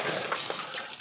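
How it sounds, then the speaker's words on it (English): Water sloshing and splashing during wading through a flooded, knee-deep mine entrance: a steady, close, broadband wash with a few brief splashes and no talk. "Bit of water in the entrance"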